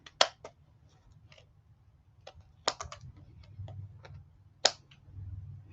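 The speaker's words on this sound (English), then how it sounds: "I'm just going to trim it off the edge with the scissors." Scissors trim the edge of layered card in a papercraft project. A series of sharp, dry snips and clicks sounds close up, irregularly spaced, with faint handling noise between cuts.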